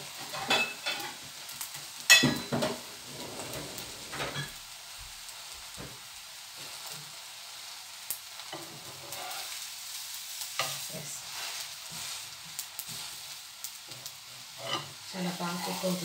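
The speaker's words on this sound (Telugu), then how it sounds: "చాలా బాగా కుక్ అవుతుందండి బటర్లో." Mixed vegetables frying in butter in a pan for a dosa dish, a steady soft sizzle with occasional stirring scrapes throughout, no talking.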